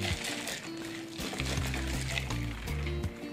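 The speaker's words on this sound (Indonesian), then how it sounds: "Kita kocok dulu" A cup of Chatime dalgona milk tea is shaken, liquid sloshing and swirling inside in an uneven churn with muffled knocks, close up and continuous for a few seconds.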